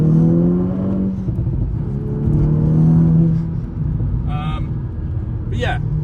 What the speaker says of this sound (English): We're currently following Luke and his super loud Golf. Which the exhaust is falling off, it looks like.